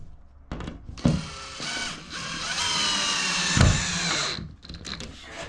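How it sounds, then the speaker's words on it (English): Power drill driving screws through plasterboard into a garden room ceiling, a few loud whirring bursts with short pauses between them, close by and with no talk. "So I normally try and put a couple of screws at the top first"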